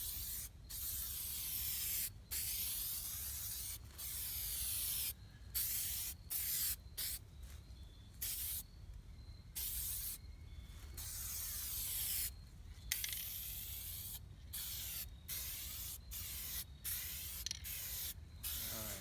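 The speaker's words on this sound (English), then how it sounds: "I'm just spraying to get the paint out of the nozzle" A spray can hisses in long bursts, close and loud, broken by short pauses, then a string of quick shorter sprays toward the end.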